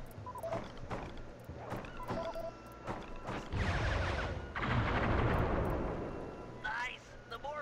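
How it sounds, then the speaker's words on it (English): Fireworks explode during gameplay in the Sly 3 video game. A few sharp pops are followed by a loud, dense crackling blast in the middle, set among other game sound effects. "The more fireworks you fry, the more damage they'll do!"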